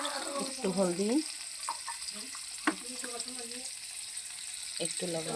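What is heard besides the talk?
potatoes frying in a pan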